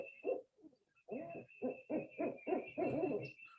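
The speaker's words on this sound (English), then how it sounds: "the barred owl is a great call. And that's the who cooks for you all sound" A barred owl gives its rhythmic hooting call, a run of deep, muffled hoots in the 'who cooks for you' pattern, fairly clear but distant. A steady high tone runs underneath.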